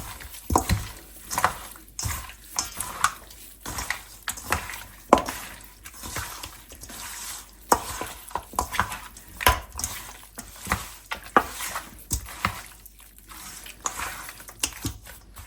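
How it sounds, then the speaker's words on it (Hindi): Chicken is worked by hand with garlic-ginger paste for pakora, giving close, irregular wet squelches and soft scraping against a bowl over several seconds, with no talking. "अब इसे हम मिक्स करके रख देंगे 1 आवर के लिए"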